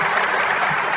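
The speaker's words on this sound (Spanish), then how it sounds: "Si me aplauden tanto" An audience at a Spanish-language lecture breaks into a short, loud burst of close, dense clapping that runs for about a second, with no talk over it.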